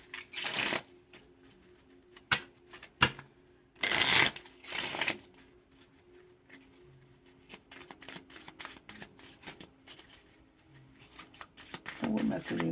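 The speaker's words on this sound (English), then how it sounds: "Let me just pull like two more cards." A personal tarot deck is shuffled close by in quick riffling bursts, with loud flurries early on and lighter card handling continuing throughout, and some soft speech is present.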